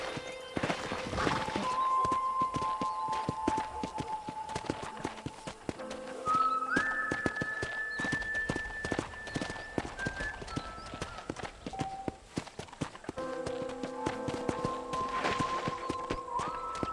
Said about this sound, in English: let's see if you can still ride a horse. Giddy up!